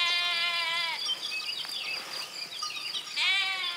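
Ewes in the Aude countryside bleat in two long, wavering, quavering calls, one at the start and another near the end, with insects chirring steadily in between and no talking.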